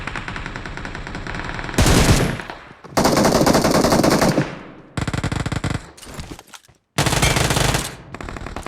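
Rapid automatic gunfire in a battle royale mobile game, close and loud, comes in several long bursts with short gaps between them and no talk over it.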